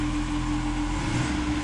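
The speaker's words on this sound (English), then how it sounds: "That's me revving this" An engine being revved during a cold start on a rusEfi-controlled setup with sequential ignition, a steady close drone with a strong low hum and little change over the short stretch.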